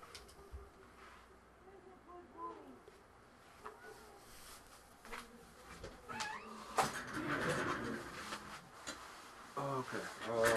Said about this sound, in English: you can probably hear my cat meowing in the background